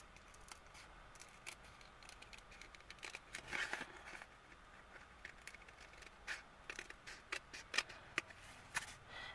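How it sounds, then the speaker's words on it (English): Scissors snip through card paper in a run of quick, crisp cuts, irregular clicks and crunches close by, quiet and without speech. "I'm going to trim off that little bit of bottom there with my scissors"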